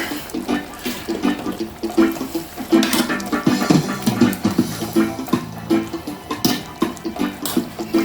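A pot of sweet and sour pork shoulder simmering, with a continuous close burbling and bubbling that rises and falls in uneven pulses.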